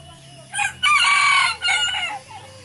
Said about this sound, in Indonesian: Ada ayam nih teman-teman.